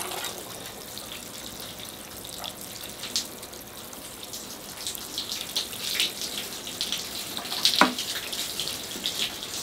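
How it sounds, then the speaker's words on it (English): Tap water running and splashing as a Natal Ficus bonsai gets a final rinse, a steady close hiss of flowing water with a few brighter spatters and drips, no voices. "All right, here I go with the last rinse."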